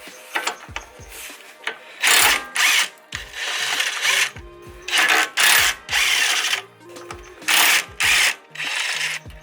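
A power tool spinning off the nuts that hold a lower control arm to the ball joint, delivered in repeated short loud whirring bursts with brief pauses between them, close by.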